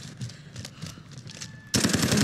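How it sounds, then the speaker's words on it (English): Automatic gunfire in the video game Call of Duty: Warzone, quiet scattered shots at first, then a sudden loud, dense burst of rapid fire that continues to the end. "I hear shooting."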